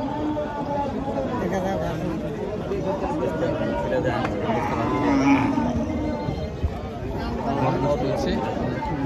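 Mooing from cattle at a busy livestock market rises faintly through steady crowd chatter, with people talking nearby throughout.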